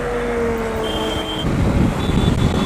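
A Revolt RV400 electric motorbike being ridden, with a steady motor whine and tones that give way to rougher road and wind rumble partway through.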